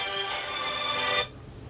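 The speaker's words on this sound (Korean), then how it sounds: "그 스마트 기기에 달린 거가 스팸 전화가 저렇게 들어오네요" A smartphone ringtone from an incoming spam call plays as a bright, steady electronic melody for just over a second, then cuts off abruptly, leaving quiet room noise.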